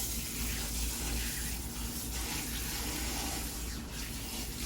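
Water from a salon tap runs steadily through hair, rinsing out an herbal treatment, a close, continuous rushing splash with slight variation throughout.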